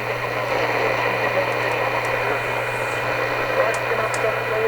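A Sony ICF-2001 shortwave radio receiver turned up loud gives a steady wash of static hiss with a low hum underneath and a few faint tonal blips, continuous for the whole stretch.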